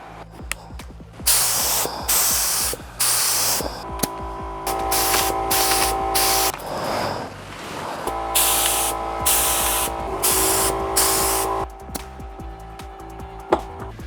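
Aerosol clear coat sprayed onto a bicycle frame in repeated bursts of loud, close hissing, separated by short pauses, with a faint hum underneath and no talk.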